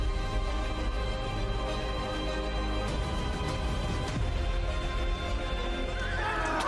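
Horses whinny and neigh loudly amid clattering hooves and dense battle noise in a historical war film scene, a continuous close, full-bodied din.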